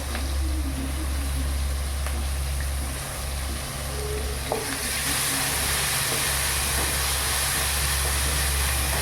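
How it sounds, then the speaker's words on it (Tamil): Green chilies and curry leaves sizzle in a hot pan, a steady loud crackling fry with faint stirring scrapes, continuous throughout with no talk. "நல்லா வதங்கிட்டு நல்லா வதங்குற அளவுக்கு நான் போட்டுக்கிறேங்க"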